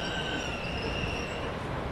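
A train in Train Sim World 2 brakes into Faversham station, its wheels squealing in high sustained tones over a loud rumbling rail roar, steady and close with no talk.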